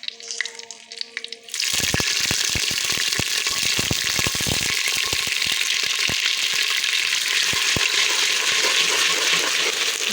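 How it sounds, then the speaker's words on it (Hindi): Garlic and ginger fry in desi ghee with a loud, steady sizzle that starts abruptly and continues with crackling pops, with no voices. "लहसुन अदरक मैंने डाल दिया देसी घी में, इसको 1-2 मिनट में बना लेती हूँ। 1 मिनट ही फ्राई करूँगी"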